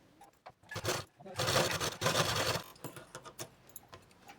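A sewing machine runs a half-inch seam on a blouse made over from an old one, with a short lead-in and then a sustained, close whirring run of about a second before it tapers to quiet handling noises.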